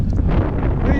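Heavy wind on the hilltop at Horsley Hills buffets the microphone in a loud, continuous low roar, filling the whole brief moment with no other sound standing out.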